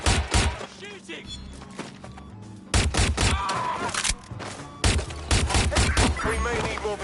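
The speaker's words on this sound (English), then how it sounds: "Shooting!" Bursts of gunfire from a police-style shootout crack out in clustered volleys with loud impacts, with shouting voices mixed among the shots.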